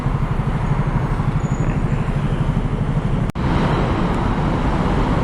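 Steady road traffic rumbles near a flyover on a drive toward MOA, cars, buses and motorcycles blending into a constant loud low drone with one brief dropout near the end.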